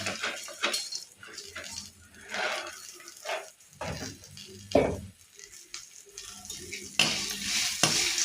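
A spoon scrapes and clinks in a pan as okra and boondi are stirred together, in irregular strokes over a soft frying sizzle, close and fairly quiet.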